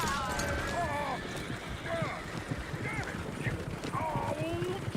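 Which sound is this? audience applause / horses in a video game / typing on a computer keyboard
horses in a video game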